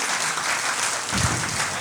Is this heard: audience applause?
yes